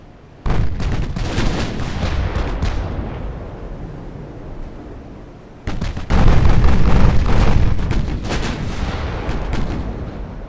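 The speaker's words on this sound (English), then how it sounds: "that's the 10-inch guns firing at him" Heavy 10-inch battleship guns firing in the naval warfare game Ultimate Admiral Dreadnoughts, two loud booming salvos with rolling rumble and dense crackling tails, the second salvo heavier and longer.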